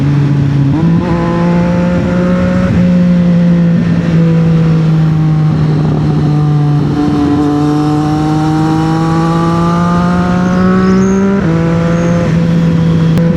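A 2025 CFMOTO 675SR-R motorcycle engine revs hard through the gears, loud rising whine climbing steadily with brief dips at each upshift, continuous and close with no talk.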